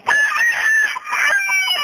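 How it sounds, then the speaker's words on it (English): Shrill, squawking chicken cries on an accidental 911 call, loud and close over a thin phone line, running continuously with a brief dip midway. "There's a chicken calling 911."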